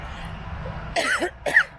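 Two short, sharp coughs in quick succession, close and fairly loud after a brief quiet moment.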